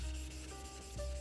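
Japanese knife edge rubbed on a soft sharpening stone with mud, producing a short, close, steady wet gritty scraping stroke with low hum underneath and no voice.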